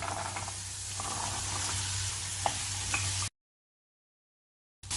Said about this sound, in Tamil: மசாலா சேர்த்து வதக்கிக்கலாம் ஒரு அரை நிமிஷம் வதக்கலாம்